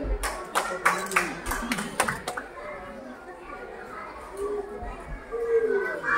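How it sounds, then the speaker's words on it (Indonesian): A few sharp claps ring out at a kindergarten graduation ceremony at Ninos Batam Edutainment Park, then give way to the chatter and noise of many young children in a busy hall. "Tepuk tangan yang meriah untuk penyemangat kepada ananda kita"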